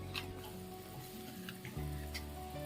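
Sugar syrup bubbling on a gas stove, a faint, continuous simmer with soft ticking pops scattered across it and a low hum underneath, no voices.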